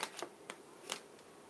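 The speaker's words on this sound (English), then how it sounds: "no matter how I shuffle them, I mix them up so they're not all just one direction." Tarot cards shuffled by hand, a few quiet crisp riffling bursts spaced across a moment, close and soft with no talking.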